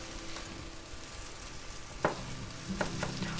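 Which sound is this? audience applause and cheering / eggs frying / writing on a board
eggs frying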